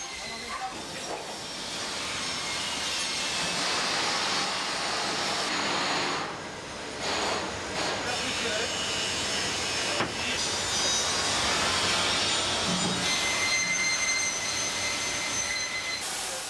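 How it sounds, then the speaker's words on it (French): Roaring, hissing rush of a thermoforming machine drawing vacuum to pull a heated plastic sheet over a positive mould, loud and sustained with surging swells and faint tonal whines. "Application du vide et formage de la pièce sur le moule positif."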